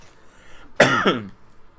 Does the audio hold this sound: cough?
yes